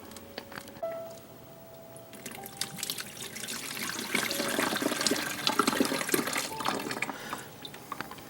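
Water poured into a coffee maker, a little over four cups, trickling and splashing steadily at close range and building to a fuller, louder stream partway through, with no talk.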